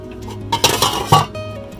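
A pot of leftover rice handled aboard a fishing boat: a few sharp metallic clinks and knocks of pot and utensils, close and moderately loud, with no talking.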